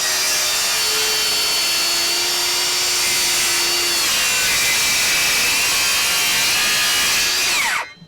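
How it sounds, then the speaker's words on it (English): A DeWalt Flexvolt circular saw running on a 20 volt battery cuts through MDF with a loud, steady whining buzz that holds for several seconds, then spins down as the cut ends. "let's start out cutting the MDF"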